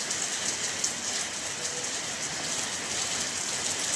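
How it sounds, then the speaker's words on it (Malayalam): Steady rain pours down outdoors during a hot spell, a continuous close hiss of falling water that stays even throughout, with no talking. "മഴ."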